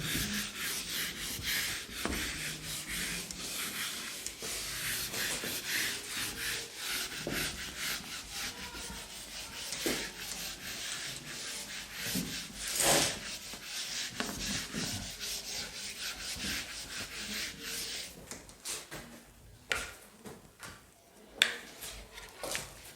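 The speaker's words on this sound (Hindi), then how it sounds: "उसको रब कर रहा हूं।" Something being rubbed during a classroom-style maths lesson: continuous close, scratchy rubbing strokes in a quick back-and-forth rhythm that thin out near the end into a few isolated taps, with no talking.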